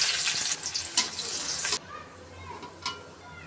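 Onions dropped into hot oil in a kadai with whole cumin and dried chilies, giving a loud hissing sizzle that cuts off sharply, then a quieter crackle.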